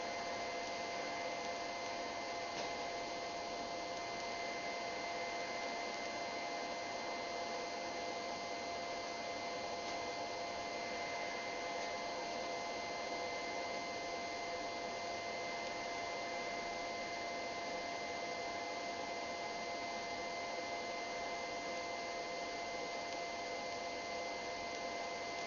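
Knife-making forge roaring while a blade heats before quenching, a continuous, even blower hiss with a faint hum that stays steady and unchanging for the whole stretch.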